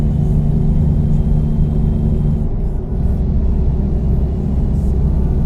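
A loud truck engine in a driving simulator game rumbles and revs steadily, a deep vehicle motor running continuously with a shift in pitch partway through.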